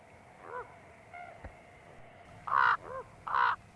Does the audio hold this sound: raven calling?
yes